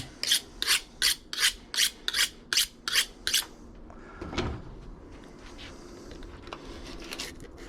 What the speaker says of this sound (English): Give your knife a little sharpen again.